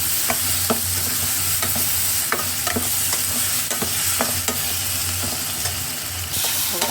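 Tomatoes being stirred into a pan of vegetables frying for Rayalaseema uggani, with steady sizzling and repeated scraping of a spoon against the pan, close and loud with no talking.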